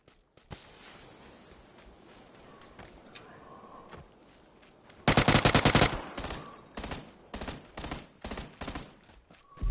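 Gunfire in the PUBG video game: a faint distant volley at first, then a loud burst of automatic fire close by followed by scattered single shots.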